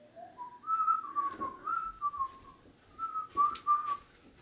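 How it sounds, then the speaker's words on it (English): A person whistles a marching tune indoors, a quiet run of short bright notes in a bouncy rhythm, then a brief pause before another phrase. "Hey there, creepy whistler."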